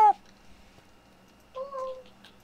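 A person imitates a cat's meow with a drawn-out, tonal meow-like call in the middle of the clip, preceded by a brief clipped burst at the very start, over faint background hum.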